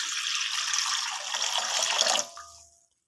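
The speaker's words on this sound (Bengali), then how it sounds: "কিছুটা জল দিয়েছি" Water pours steadily into a cooking pan, a loud continuous splash for about two seconds, then it stops abruptly and trails off into silence, no voices.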